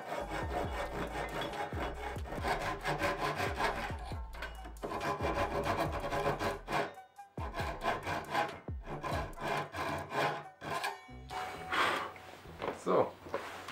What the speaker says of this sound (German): jetzt eben mit der Japansäge einfach hier am Schnitt entlang auf beiden Seiten heruntersägen